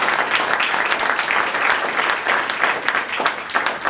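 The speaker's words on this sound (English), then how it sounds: "Shall we give Arnold another big warm round of applause" An audience at Arnold Schwarzenegger's Arnold Classic Africa 2016 press conference applauds Arnold, a dense, steady round of clapping that carries evenly from start to finish with no pause.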